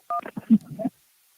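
Telephone call connecting on a radio show phone line, a short burst of dialing or connection tones with brief voice-like sounds, close and clear, then quiet.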